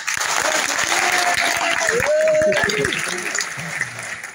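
Audience applause at a college talk event in India, sustained steady clapping through the clip with a voice speaking over it.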